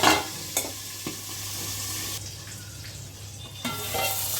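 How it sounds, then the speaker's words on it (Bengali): A fish head frying in a pan, a steady soft sizzle with a few sharp clacks and scrapes as it is turned over, close and moderately loud, no voices. "মাথাটা কিন্তু খুব ভালো করে লাল করে ভেজে নিতে হবে।"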